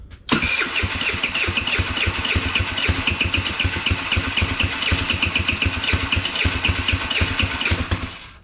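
A custom-built motorcycle engine fires up for the first time and settles into a loud, steady idle, close by, with a rapid even pulse running the whole way and no talk over it.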